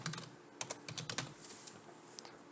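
Computer keyboard typing while entering a spreadsheet label, quick irregular clicks in short bursts with small pauses, close and fairly quiet, no talking.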